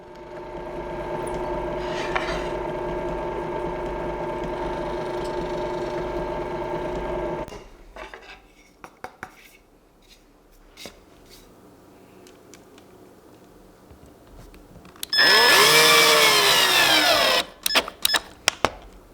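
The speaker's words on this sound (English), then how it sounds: "Finally, some small holes get drilled in the bottom for some rubber feet." Power drill boring small holes in the bottom of a wooden game board, a loud steady whine for several seconds, then quieter clicks and handling, then a second short high-pitched burst of drilling followed by sharp knocks.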